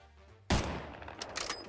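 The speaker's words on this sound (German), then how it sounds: "Ich hab gehört, dass du auf mich geschossen hast." Sudden burst of Minecraft gunfire from a sniper hunting through an amusement park, a sharp loud onset followed by a dense rattling volley with scattered cracks trailing off, no voices.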